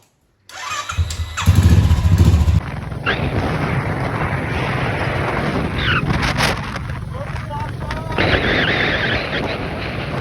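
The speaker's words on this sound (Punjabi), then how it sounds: "ਸਟਾਰਟ ਹੁੰਨੇ ਆ ਤਾਂ ਆਜੋ ਮੋੜਦੇ ਆ ਬੁਲਟ" A Royal Enfield Bullet motorcycle engine starts with a loud burst, then settles into a steady, rumbling idle that carries on throughout, nearby and strong.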